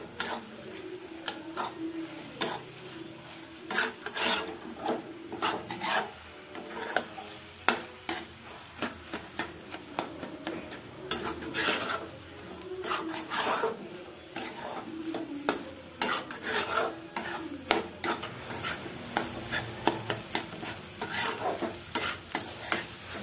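Egg bhurji being sautéed and stirred in a pan, village style: a steady sizzle under repeated scraping and tapping of a spatula against the pan, close and moderately loud with no talking.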